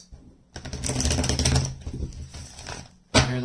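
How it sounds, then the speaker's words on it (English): Tarot cards shuffled close by: a long rapid riffling flutter, then a pause and a second short burst of riffling at the end. "Hear those cards shuffling?"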